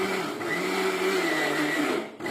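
A mixer grinder jar grinds squid with a loud, steady motor whine and a churning hum that holds without a break.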